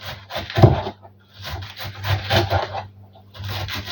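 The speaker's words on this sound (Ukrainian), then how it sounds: "Терти сюди цибулю не підійде, саме треба різати." A knife finely chops onion on a cutting board, giving clustered bursts of crisp scraping and tapping strokes with short pauses between them, close and fairly loud, with no talking.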